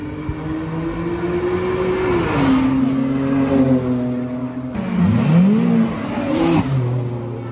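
A bagged SRT Jeep revs hard and spins its tires, a loud sustained engine roar rising and falling in pitch over about seven seconds with a second surge of revving midway.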